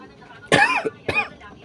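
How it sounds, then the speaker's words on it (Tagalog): Two short, harsh coughs close by, about half a second apart, in a quiet room. "Inuubo ko."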